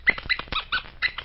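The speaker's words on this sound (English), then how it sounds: "I don't suppose you can understand puppy dog talk" A puppy dog yips and barks in a quick run of short, high, bright barks on an old-time radio show, close and fairly loud, with tinny, band-limited sound and no talking over it.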